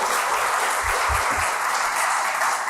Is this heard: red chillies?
no